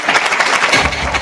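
A short burst of dense audience clapping fills a hall at a business and investment summit, steady and close with no pauses.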